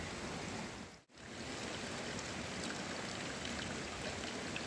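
A small waterfall stream flows continuously on the Lapaz Waterfalls trek, a steady close wash of splashing water with a brief dip near the start, and no talk.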